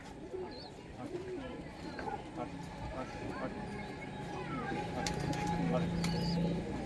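Punjabi Malwahi pigeons coo softly in a loft, with occasional low calls and wing movement, partly under people talking nearby.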